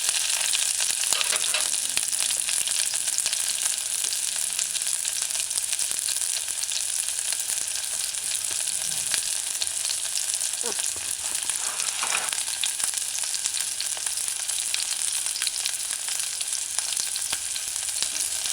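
Spam luncheon stew with onions sauteing in a pan on a stove at medium-low heat, giving a steady, even sizzle with faint stirring scrapes throughout.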